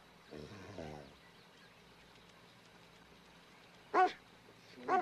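A dog standing in a road gives a longer voiced sound early on, then two short, sharp barks close by near the end, with quiet stretches between.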